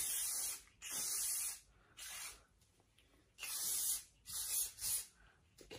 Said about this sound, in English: a little bit more spray to define the curls